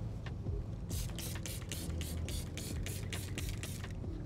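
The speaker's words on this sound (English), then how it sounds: "just spray the tires just a little bit more for some added cleaning power" Diablo wheel cleaner gel sprayed onto car tires in a quick string of about ten short, hissing bursts at steady rhythm, close and fairly loud over low background rumble.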